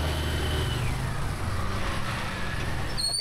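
A passenger tricycle engine running at night, a steady loud motor drone with low rumble throughout, close and continuous with no talk over it.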